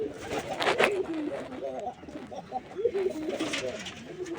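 Pigeons on a rooftop coo in repeated throaty, rolling calls that overlap at close range, steady for several seconds with a little background noise.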